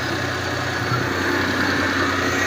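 A Suzuki mini van engine runs steadily at idle after a starter repair, a close, continuous mid-low drone with a faint even vibration and no break.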